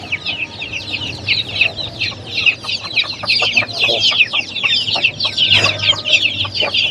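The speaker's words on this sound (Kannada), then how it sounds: "ತಾಯಿ ಕೋಳಿ ಮರಿ ಕೋಳಿಗಳು ಯಾವ ರೀತಿ ಇದೆ ನೋಡಿ." A native country hen and her chicks cluck and peep close by, with a busy chorus of high chick cheeps over lower hen clucks and a faint background hum.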